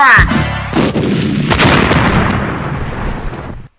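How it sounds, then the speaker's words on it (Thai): A thrown grenade blasts in a Troll Face horror video game overrun by spiders. The explosion is a single loud, close boom that rolls into a rumbling tail and dies away after about three seconds. "งานนี้ต้องปาระเบิดยัดเข้าไป"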